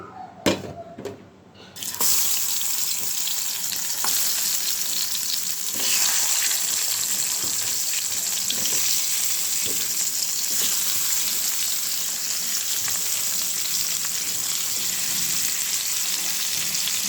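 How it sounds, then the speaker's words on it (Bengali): Pumpkin stems coated in turmeric, salt and chili powder hiss and sizzle steadily in hot oil after a few brief clatters at the start, with faint stirring and occasional watery crackle underneath. "এখন কুমোরটা ভাজবো হলুদ লবণ আর মরিচের গুঁড়া দিয়ে মেখে নিয়েছি"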